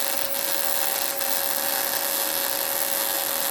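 Steady, loud crackling hiss from welding metal on a truck body during cab corner repair, continuous and unbroken with a constant high whine running through it.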